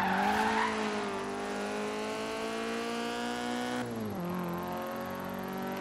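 A Nissan 240SX sports car engine in Forza Horizon 3 revs high and strains steadily, pitch dipping as it shifts gears before climbing again, with a brief squeal early on.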